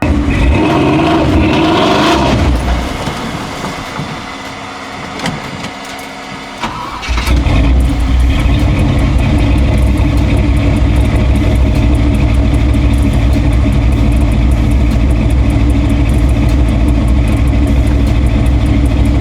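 A Ford 302 V8 engine runs and loads up while driving, a loud, steady low mechanical drone that dips and falters for a few seconds early on, then surges back to a full, sustained roar for the rest of the clip.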